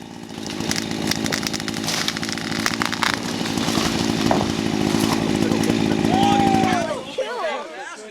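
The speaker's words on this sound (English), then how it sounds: "finished up with a chainsaw" A chainsaw roars steadily at close range while felling trees, its engine drone holding for about seven seconds before cutting off, followed by brief rustling and crackling.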